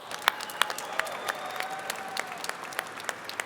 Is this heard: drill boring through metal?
no